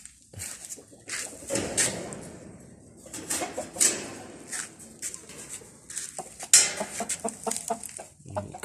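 Roosters cluck repeatedly close by, short irregular bursts from several birds with occasional louder squawks, and no talking.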